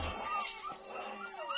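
A dog whines and whimpers while being fed at home in the evening, with short, wavering high cries rising and falling close by over a low room murmur.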